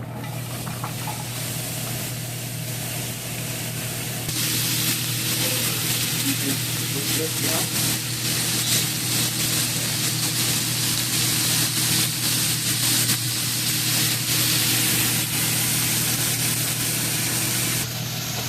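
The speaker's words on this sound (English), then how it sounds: "You want it at a low simmer because we want to simmer our meat." Ground meat simmering and browning in a pan over medium heat for shepherd's pie, a continuous sizzling hiss that grows louder and denser partway through, while a person talks over it.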